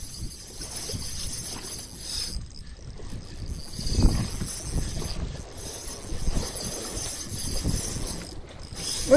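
A fishing reel's drag clicks in a steady ratcheting run as line pours out while an angler fights a large bidbid at a Tanza, Cavite fishing spot, continuous and close against outdoor wind and water noise.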